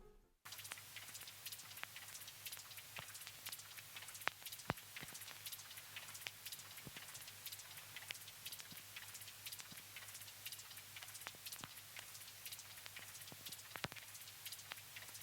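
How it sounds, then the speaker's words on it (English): Field-recorded rain falling steadily, with many close, crisp individual drops ticking and splattering over a soft continuous hiss and a low hum, fairly quiet and alone without voices. "The most interesting sound I've got in here is probably the rain sample."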